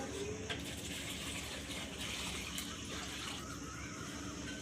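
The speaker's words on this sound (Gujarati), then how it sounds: "આટલું પાણી નાખ્યું" Water being poured into a vessel for pani puri, a quiet continuous trickling wash that stays level throughout, with no one speaking.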